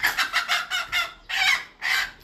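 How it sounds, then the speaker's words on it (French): A hen gives a quick run of loud, close clucks in uneven bursts with brief pauses between them, and no voices are heard. "Même Inès attrape la poule plus que vous."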